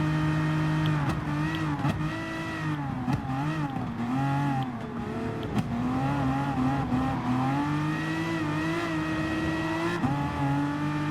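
An Aston Martin race car in Remy Martin livery roars through a Gran Turismo Sport race, its engine revving continuously and rising and falling in pitch through gear changes, loud and unbroken.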